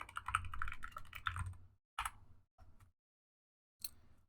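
Short bursts of typing on a computer keyboard into a search bar, a quick run of close, crisp key clicks followed by a few isolated taps separated by silence.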